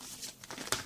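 Tarot cards being shuffled by hand, a soft papery crinkle and riffle with one sharper snap near the end, close and quiet with no talk.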